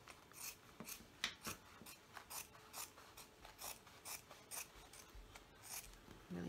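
Dull scissors snip through thick recycled denim fabric in a series of crisp, irregularly spaced cuts, close and quiet with no talking.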